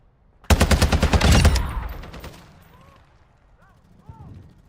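Rapid burst of gunfire in a shooter video game, about a dozen sharp close shots in quick succession, then a fading tail and low background rumble with faint game effects.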